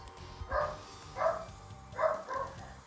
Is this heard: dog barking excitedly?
yes